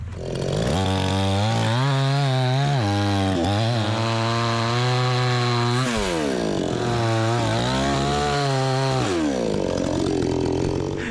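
A budget gas chainsaw bucks firewood rounds, its engine revving steadily loud throughout with pitch dipping and rising as the chain bogs into cuts and frees up, near and continuous with no talk.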